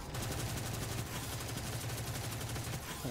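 Rapid gunfire from a hand cannon and other weapons in the Destiny 2 video game, a dense, continuous crackle of overlapping shots held at a steady loud level throughout.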